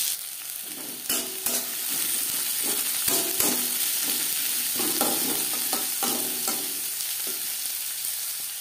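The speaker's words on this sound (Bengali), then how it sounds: "3 চামচ রিফাইন্ড অয়েল গরম করে নেওয়ার পর দিয়ে দেবো পেঁয়াজ। পেঁয়াজ আমি হালকা করে ভেজে নেব।" Onions sizzle lightly in heated refined oil, a steady frying hiss broken by spoon stirs and scraping clatters throughout, close and moderately loud with no voices.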